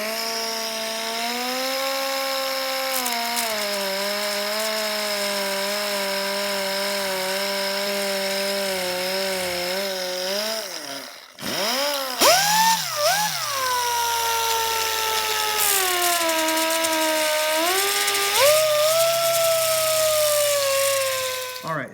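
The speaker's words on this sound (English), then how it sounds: "This is a really small sander." A small handheld power sander whines steadily while working on a thick, burned veneer tabletop. The loud, close motor tone dips briefly about halfway through, then resumes with wavering pitch as the sander is pressed and moved.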